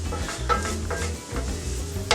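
Tomato paste sizzles in a pan while being cooked for chilaquiles. A steady frying hiss runs throughout, broken by a few stirring scrapes, with no talk.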